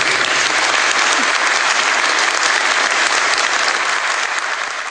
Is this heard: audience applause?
yes